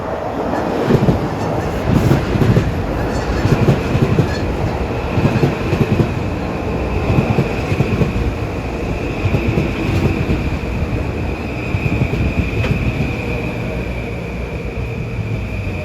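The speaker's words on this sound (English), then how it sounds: "this train coming in at 6:12 is 1260 bound for Harrison" A New Haven Line commuter train arriving at Mamaroneck station at evening rush hour: a loud, continuous rolling rumble with rhythmic wheel clatter, wind buffeting and a steady high whine as it pulls in close.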